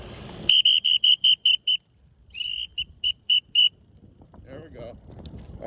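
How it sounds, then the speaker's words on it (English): A bicycle whistle sounds in two quick series of sharp, high toots, about seven then five short blasts, while riding eastbound on the Brays Bayou bike and pedestrian path, followed by quieter road and wind noise. "my whistle going."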